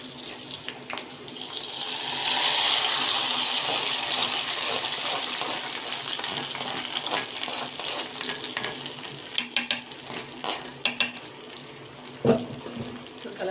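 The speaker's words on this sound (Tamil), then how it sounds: "பொங்கலோட நெய் ஊற்றிடலாம்." Hot ghee is poured into a pot of pongal after frying, giving a loud sizzling hiss that builds and then breaks into crackles and small pops, with a few clinks near the end.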